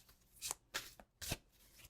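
Tarot cards are shuffled in three quick, soft riffling bursts, heard close and quiet with no talking.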